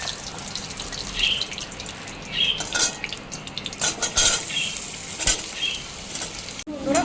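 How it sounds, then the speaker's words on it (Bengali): Potato pieces fry in oil in a pan, a continuous crackling sizzle punctuated by metal spatula scrapes and clinks against the pan, with a sharp knock near the end. "ওই তেলে আলুগুলো খুব ভালো মতো করে ভেজে নেব"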